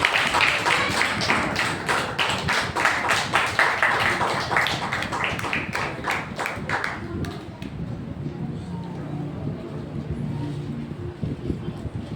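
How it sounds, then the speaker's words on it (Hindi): A church congregation at a Sunday service claps loudly and rapidly in welcome for several seconds, the applause then thinning out into scattered faint claps as the room settles. "जोरदार ताली के द्वारा प्रॉफेट सीधर सुलेमान टीम का स्वागत करेंगे"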